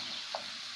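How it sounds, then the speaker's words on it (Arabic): Salted onion frying in a pan, a soft, steady sizzling hiss with a faint tick partway through. "ونخلي البصلة ديالتي حتى تنزل حتى تشحر."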